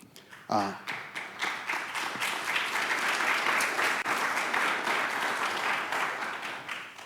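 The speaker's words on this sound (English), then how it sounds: "That wasn't meant to be an applause line." Audience applause at the Lightship Tulsa Showcase 2022 that begins with a few scattered claps, then swells into sustained, fairly loud clapping from a crowd, with a voice briefly audible near the start.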